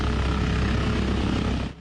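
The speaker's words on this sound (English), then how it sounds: "A helicopter touches down on Redonda Street in Transcona around 2 a.m." A helicopter touches down on a street in Transcona at night, its loud rotor and engine roar filling the air close by before cutting off sharply at the end.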